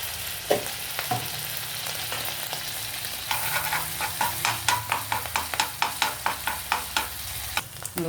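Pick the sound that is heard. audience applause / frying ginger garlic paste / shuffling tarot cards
frying ginger garlic paste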